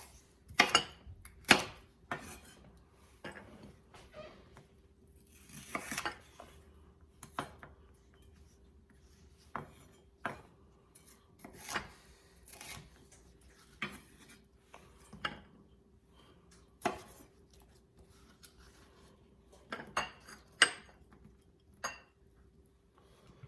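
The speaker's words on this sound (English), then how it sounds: "I'm going to cut this down into chunks big enough to go on my toothpicks." A knife cutting food into chunks for toothpicks on a board, a series of quiet, irregular sharp cuts and taps with soft rubbing between them in a still room.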